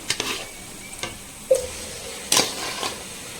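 Tomatoes fry with onions in a pan for a barota kurma, a soft sizzle punctuated by a few sharp spoon scrapes and taps against the metal, close and fairly quiet.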